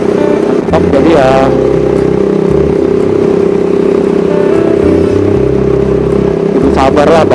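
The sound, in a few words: cruiser touring motorcycle engine while riding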